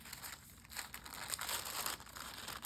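Paper being cut for a Bible journaling page: soft crinkling and snipping rustles, quiet and close, with a few brief bursts and no talk.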